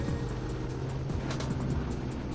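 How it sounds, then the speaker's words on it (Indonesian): A loud, steady engine roar of a motorbike with a racing exhaust, droning continuously with a slight rise in pitch, close by, heard while riding an older Yamaha Nmax on a road to PIK2. "Nah ini ada yang suara knalpot racing nih dari belakang apa nih?"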